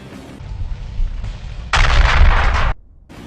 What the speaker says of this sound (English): Fly off to the right and explode.